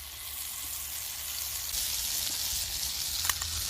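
Butter, 40 grams, sizzling in a hot pan after resting grass-fed Cape Grim steaks, a steady close hiss of frying that swells slightly, with a few small clicks and pops near the end.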